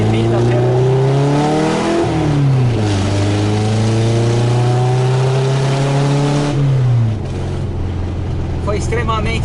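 An unmuffled VW Fusca (Beetle) engine with a freshly adjusted carburetor roars loud and close, its pitch climbing and dropping through several revs before settling into a rough, steady idle.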